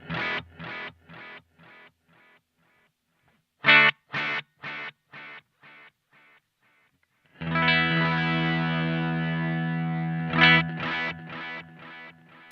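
Guitar played through a Strymon Volante delay pedal set for distorted repeats: plucked notes followed by decaying echoes, then a sustained gritty, saturated chord ringing under more repeats.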